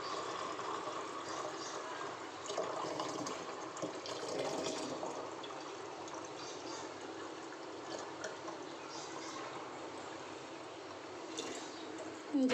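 Water running steadily from a tap and filling a container, drawn to water a henna plant, a continuous close splashing flow with no talking.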